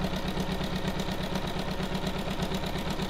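A sewing machine running steadily up close, stitching the side of a small fabric tray, with a fast, even mechanical chatter that stops abruptly at the end.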